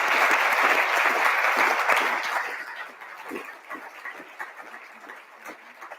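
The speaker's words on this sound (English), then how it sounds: "Give them a nice round of applause for their time here tonight" Audience applause at a community Q&A on redistricting in Kansas City, a dense, loud roar of clapping for about two seconds that thins and fades into scattered, quieter claps.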